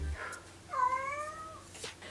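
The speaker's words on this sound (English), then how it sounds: "ignore my cat" A pet cat lets out a single drawn-out meow with a rising, wavering pitch, close and fairly clear, with brief faint noises around it and no talk.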